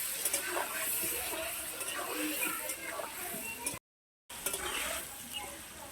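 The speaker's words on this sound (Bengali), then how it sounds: "এবার ভালো করে নাড়াচাড়া করে লাল লাল করে ভেজে নেব" Salted potato pieces are stirred and fried in a pan for a jackfruit dish: a close sizzle with scraping, ticking stirs, cut by a brief total silence before the frying resumes.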